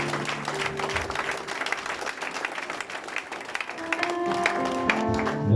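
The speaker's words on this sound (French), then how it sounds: "nous avons applaudi le Saint-Esprit" Church congregation at a Sunday service clapping together, a moderate crowd of applause rising toward the end, with sustained tones of music or singing audible behind it.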